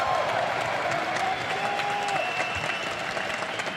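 A large esports crowd at the 2017 League of Legends EU LCS Spring Finals in Germany applauds steadily, a dense wash of clapping that holds throughout, loud and unbroken, with faint voices beneath.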